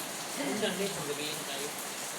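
Rain falls steadily as a soft, even hiss throughout, with a voice talking faintly over it.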